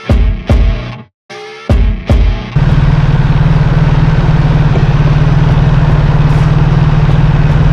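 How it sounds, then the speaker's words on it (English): A BMW R1300 GS motorcycle out on a test ride gives a few sharp, close knocks, then settles into a loud, steady engine drone that runs on unbroken. "let's put this bike through its paces"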